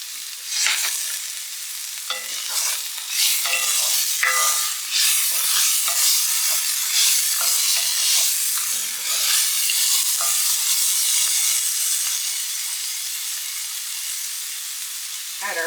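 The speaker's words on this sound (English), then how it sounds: "And saute for about 30 seconds." Broccoli sautéing and being stirred in a pan, a continuous close sizzle with scraping stirs and occasional clinks, no talking.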